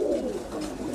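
Caged pigeons in a home loft give a steady low cooing drone, close and unbroken, with no voices over it.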